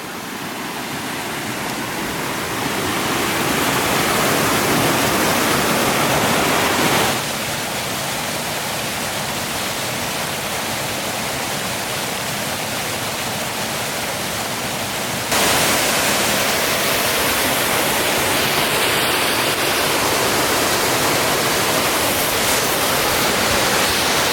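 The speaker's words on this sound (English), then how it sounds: "Got a spring waterfall here." A steady, loud roar of rushing water pouring down a spring waterfall in Penwood State Park, continuous and full, with no voices.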